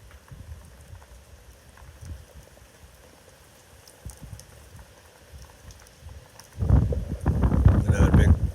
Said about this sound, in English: Another big burst of wind here.